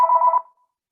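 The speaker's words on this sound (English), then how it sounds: "wait for the telephone to stop ringing" A single short telephone bell ring during a calculus lecture, a bright steady tone lasting under half a second, clear and alone, then quickly fading to silence.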